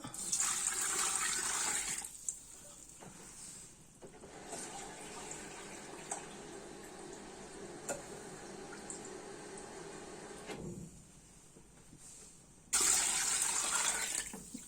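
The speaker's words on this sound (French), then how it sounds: "On le recouvre bien d'eau." Water pours steadily from a tap into a pot over calf's feet for an old-fashioned vinaigrette dish, a loud continuous splashing rush that pauses midway and then returns strongly toward the end, with no speech.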